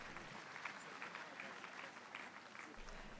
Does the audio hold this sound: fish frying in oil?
no